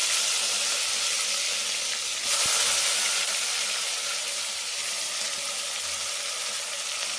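Chopped tomatoes hit hot oil in a pan for mutton dum biryani, producing a loud, continuous broadband sizzle that swells briefly as they drop in and then hisses on steadily.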